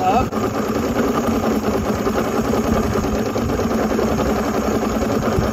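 A Mercury Black Max 135 outboard engine idles steadily throughout with a continuous mid-range running drone, close and fairly loud, while someone speaks over it.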